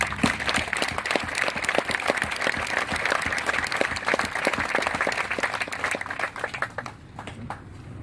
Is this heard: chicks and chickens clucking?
no